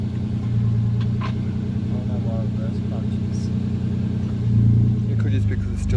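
A Holden Commodore engine runs steadily in the background with a low rumbling drone while the gearbox is worked through the gears, and a voice talks over it.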